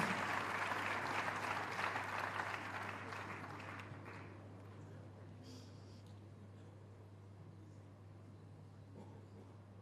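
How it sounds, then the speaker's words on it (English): Applause from the audience at a university convocation for honorary graduates, fairly loud for the first few seconds before fading away into quiet hall ambience with a low steady hum. "Another round of applause for our honoraries."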